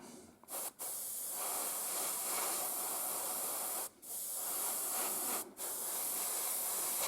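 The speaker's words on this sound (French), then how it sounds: "Je tire très peu sur ma gâchette pour ne pas envoyer un jet de peinture trop important." An airbrush-style spray gun sprays paint onto the body of a GMC model log-transport truck in long, steady hissing bursts. Three brief pauses break the spray, which is close and clear with no talking.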